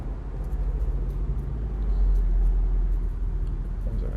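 Steady traffic rumble of cars passing over a bridge beside a beach, a continuous low droning wash with occasional swells as vehicles go by, fairly close and with no talking over it.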